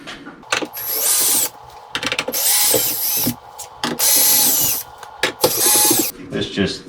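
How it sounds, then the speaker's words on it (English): A power drill backs screws out of an electronic lock on a Winchester safe, running in several loud whirring bursts of roughly a second each, separated by short pauses and faint ratcheting clicks. "Next, take a drill."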